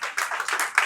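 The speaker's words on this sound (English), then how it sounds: "I thought you would clap for us." Audience members at a youth talk clap briefly, a scattered, light patter of a few hands at moderate distance with no voices over it.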